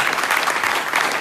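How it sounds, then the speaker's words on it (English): A tech meetup crowd gives a welcome applause to the first speaker, Eduardo, with loud, continuous clapping from many hands filling the room, no voices over it. "So a big applause for Eduardo, welcome."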